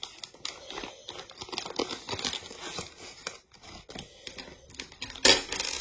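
Plastic packaging for diamond painting tools, including a small sachet, is unwrapped by hand: continuous close crinkling, rustling and tearing, ending in a sharper crackle.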